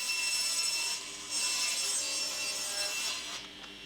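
A saw cuts through wood for storage cabinet bottom panels in a metalworking shop, making a continuous rasping cut with a brief dip partway through, then carrying on at a moderate level.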